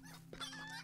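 Short clucking from a chicken emote in a video game, a quick burst of fowl-like calls over a steady game background hum, lasting under a second.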